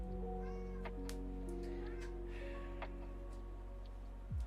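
A house cat gives a couple of soft, brief meows indoors, fairly close, over a constant low mechanical hum, with no speech.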